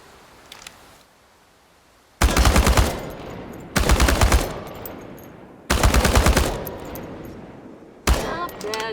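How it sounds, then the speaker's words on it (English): An automatic rifle in Chernobylite rattles off four loud, rapid bursts at cans at a firing range, each lasting about a second, with short quiet gaps between them. "Now I'm gonna teach you how to handle your rifle in automatic firing mode."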